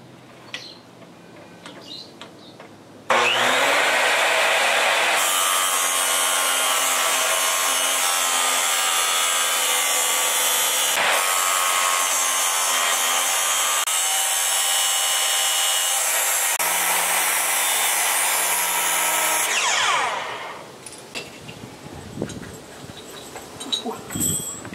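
A loud, steady power tool grinds and whines through metal eye hooks for about seventeen seconds without a break, then cuts off.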